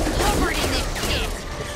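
A weapon being reloaded in the zombie shooter Back 4 Blood: a brief run of close mechanical clacks and metallic handling, with a game voice talking over it.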